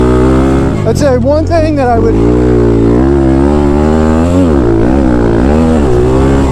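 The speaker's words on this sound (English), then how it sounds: "hold a pit bike absolutely wide open everywhere." A Thumpstar TSX140 pit bike engine is held wide open around a track, its loud buzzing note rising and falling as the revs swing, with someone talking over it.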